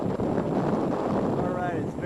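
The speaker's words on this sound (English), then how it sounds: "it's very windy" Strong wind in a gorge buffets the microphone in a constant, loud, rough roar that barely varies across the moment.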